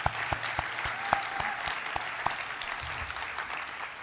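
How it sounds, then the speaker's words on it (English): Audience at the 2023 WA Architecture Awards applauds the jury with steady, moderately distant clapping that blends into a continuous wash, a few louder individual claps standing out near the start, no voices. "Yeah, give him a round of applause."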